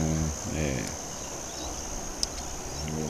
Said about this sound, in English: Those bugs are actually cicadas that you can hear in the tree in the background.